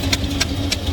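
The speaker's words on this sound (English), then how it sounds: "Literally, exhaust leak right there." A 1974 Plymouth Roadrunner engine idles with an exhaust leak, a steady low rumble broken by sharp, regular ticking puffs about three times a second, loud and close.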